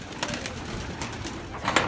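Pigeons coo softly inside a pigeon loft in Siberia, giving low, faint calls against a quiet background.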